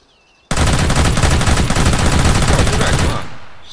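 Gunfire in DayZ, a sudden, very loud rapid automatic burst that starts abruptly and rattles on for about two and a half seconds before fading out.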